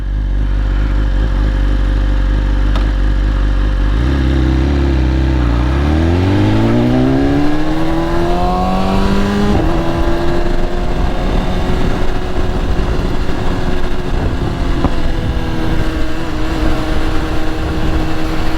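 A BMW S1000RR sport motorcycle rides on an evening road, its engine droning loud and close, then revving up through rising pitch with a quick gear shift and settling into a steady high-speed roar.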